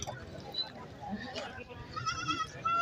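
A milking goat at a busy goat market in Bhains Colony bleats in short calls amid a crowd, with people talking around it throughout.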